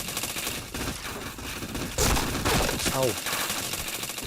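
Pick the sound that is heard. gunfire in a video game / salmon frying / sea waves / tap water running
gunfire in a video game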